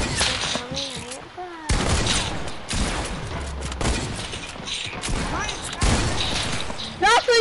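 Video game gunfire in a scrimmage match, loud bursts of rapid shots and sharp cracks arriving in clusters, with excited voices shouting over and between the volleys.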